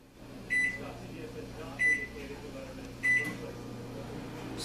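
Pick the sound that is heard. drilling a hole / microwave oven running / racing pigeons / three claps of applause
microwave oven running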